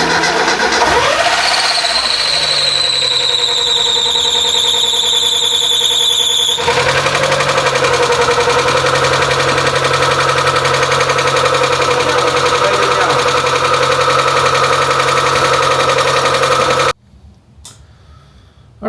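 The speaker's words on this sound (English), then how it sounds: "Mazda is running after the timing belt replacement and water pump, so this is good" A Mazda MX-5 NA 1.8 engine runs loudly and steadily up close after a timing belt and water pump replacement, with a high whining squeal early on, before cutting off near the end.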